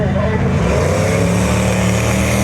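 A 440 Jeep and a Monaco race past at a drag strip at about 100 miles an hour, a loud, steady engine roar with a broad rumble throughout.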